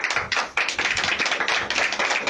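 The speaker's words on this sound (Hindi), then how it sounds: "ताली बजा सकते हैं" A congregation claps along during a Christian sermon, a dense, steady run of loud rhythmic handclaps filling the space without any voices.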